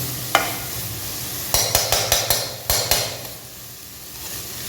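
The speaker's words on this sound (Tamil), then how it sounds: "கருவேப்பிலை நல்லா வந்துடுச்சு நல்லா ஃப்ரை ஆகிடுச்சு கருவேப்பிலை" Curry leaves frying in a pan over a medium flame, with a steady low sizzle broken by a run of sharp spoon taps and stirring clinks against the pan near the middle.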